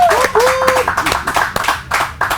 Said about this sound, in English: Little smattering of applause.